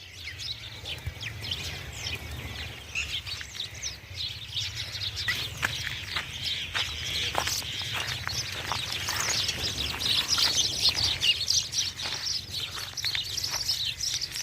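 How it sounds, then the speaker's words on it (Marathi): Many small birds, sparrows, chirp and twitter continuously over a farm field, a busy overlapping chorus of high calls over a steady low background hum. "बघा हे पक्षी किती बाप रे"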